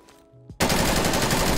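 A LAPA submachine gun in Call of Duty opens fire after a brief moment of quieter game sounds, becoming a loud, sustained rapid burst that continues unbroken to the end.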